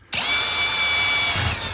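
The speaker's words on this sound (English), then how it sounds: "I'm going to drill 4 holes in the corner." Power drill boring holes into a control box for a pixel receiver build: a sharp motor whine starts abruptly and holds steady and loud at close range, with no speech.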